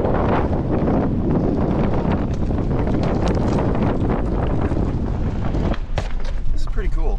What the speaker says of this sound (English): It's a little windy, so we want to see what happens with the wind.